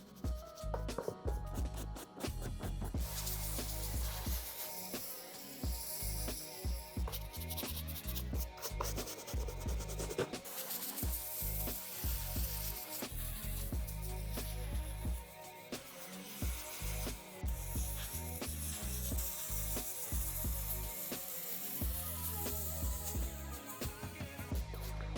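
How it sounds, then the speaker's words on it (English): A soft bristle brush scrubs dirt off olive suede Air Jordan 1 Travis Scott sneakers, close and loud, in rapid rhythmic back-and-forth strokes with brief pauses between bursts. "I have our soft bristle brush, and I'm just gonna brush off whatever doesn't get off"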